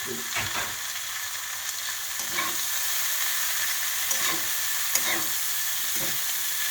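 Vegetables and oats for oats poha with greens and grated carrot sizzle in a pan, a steady bright hiss with a few soft periodic stirring scrapes.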